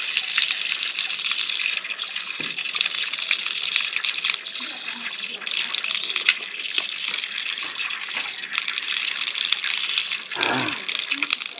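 Hot spring water pours steadily from a pipe, a continuous broadband rushing flow that stays close and loud throughout, with brief quiet voices near the end.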